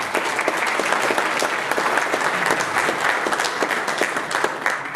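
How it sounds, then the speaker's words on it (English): A crowd at a Patriot Day event gives a round of applause, dense steady clapping throughout at moderate loudness with no voices over it. "would you please give a round of applause to Mike B. Johnson Haskins, please."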